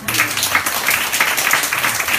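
Congregation clapping during a Sunday morning church service, a steady wash of applause sustained through the whole moment, fairly loud and without talk.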